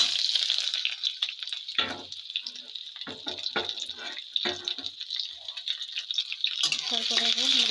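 Chopped onions hit hot oil in a pan and sizzle in bursts amid stirring and clattering, with a steady hiss underneath throughout.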